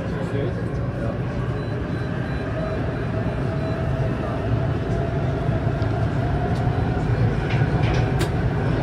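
Low, steady rumble of a train rolling along, heard from inside or nearby, with a faint rising whine and occasional clicks; no clear speech.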